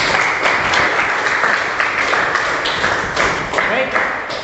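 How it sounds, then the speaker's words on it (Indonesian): A classroom of students applauds a student group during a teaching assessment, with brisk, close clapping throughout the short moment and voices mixed in. "Tepuk tangan untuk kelompok 3."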